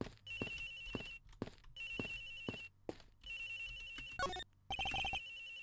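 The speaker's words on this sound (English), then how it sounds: "The ringing's coming from somewhere in here, sir." A phone rings in the Miles Edgeworth investigation game, lost in a lost-and-found pile: a repeating electronic ringtone in regular bursts with short gaps, clear and alone, ending in a quick run of warbling tones.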